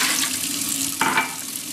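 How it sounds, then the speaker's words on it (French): Cold water poured from a cup onto washed lentils in a pressure cooker makes a brief splashing burst over a steady background hiss, close and moderately loud. "je vais ajouter 2 tasses, vous voyez, d'eau froide"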